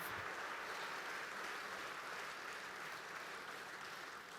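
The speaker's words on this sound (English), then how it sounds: "give them another hand of applause" Audience applause at a real estate conference, a steady wash of clapping from a large crowd, continuous and fairly even throughout with no talk over it.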